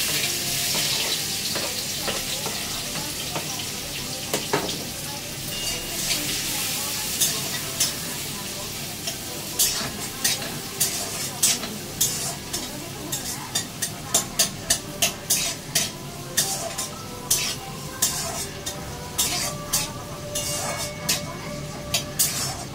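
Garlic, red chilli, green chilli and a little onion fry loudly in a hot pan, a steady dense sizzle with frequent sharp crackles and pops that grow busier toward the end, with no talking.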